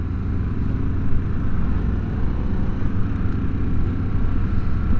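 Riding a 2022 Harley-Davidson Sportster S cruiser produces a continuous, dense low engine rumble mixed with wind and road noise, steady and loud for several seconds with no voices.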